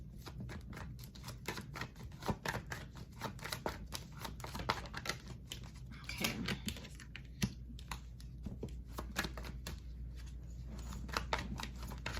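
Tarot cards being dealt and laid out one by one for a reading, giving a steady run of soft, close card slaps and shuffling clicks over a low background hum, with no talking.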